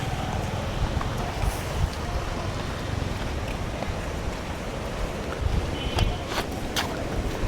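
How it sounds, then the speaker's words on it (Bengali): Wind blowing outdoors beside a rubber dam, a steady gusty rush buffeting the microphone with a few louder bumps, no voices. "এত গরমের মধ্যেও কিন্তু এখানে বাতাসে ভালো চাপ"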